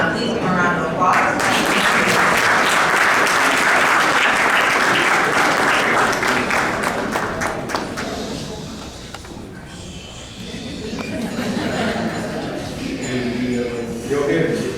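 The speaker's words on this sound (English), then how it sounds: "Please give a round of applause" Loud, sustained applause from the audience at the Forbes Afro Future Summit awards gala fills the room, then fades midway before a speaking voice comes in with lighter clapping behind it.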